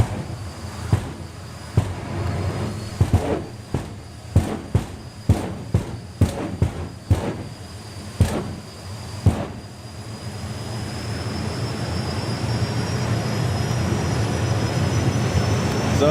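Two jet dragster cars sit at the line at a drag racing event, a steady loud jet roar building and sustained throughout, punctuated early on by a rapid series of sharp bangs or pops.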